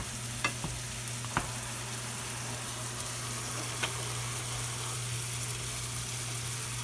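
Ground beef fries on high heat in a pan with a steady, quiet sizzle, punctuated by a few sharp clicks of a utensil stirring the meat.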